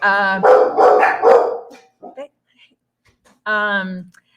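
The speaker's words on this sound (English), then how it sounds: "Dogs are barking." A dog barks loudly and close by in a quick run of sharp barks, then falls quiet before one more bark near the end.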